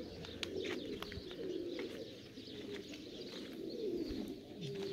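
Wide-tailed pigeons coo steadily at a breeding loft. Many soft, overlapping rolling calls sound close by, with scattered chirps and light clicks under them and no talk.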